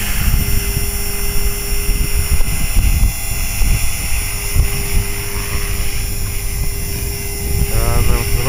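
HK-450GT RC helicopter with a 4000 kV motor flying steadily before landing on a windy day, its rotor and motor whine a constant loud drone with a sustained tonal hum throughout, alongside background noise.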